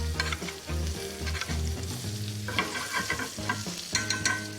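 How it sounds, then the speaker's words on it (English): A steak sizzling in a pan of melted butter as it is flipped and basted, crackling and spattering up close with occasional scraping and utensil clinks, and no talk. "While that butter is melting, I'm gonna flip this beautiful piece of steak."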